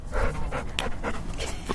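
Golden, floppy-eared dog named Jack panting in rapid breathy bursts at an outdoor meet and greet outside a jail, close and steady throughout with no talking.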